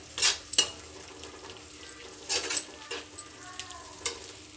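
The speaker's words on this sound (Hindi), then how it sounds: "अब हम इसको लो फ्लेम पे 2 से 3 मिनट तक पकाएंगे मसाले को।" Masala for a boiled cabbage curry cooking on low flame in a pan, with a soft, quiet sizzle under several sharp scrapes and taps of a spoon against the pan, close and intermittent.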